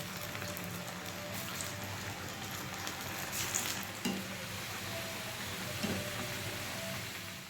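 Vegetable pitha, or singara, frying in hot oil in a home kitchen at evening, a steady, soft sizzle and crackle running throughout with occasional small stirring clinks.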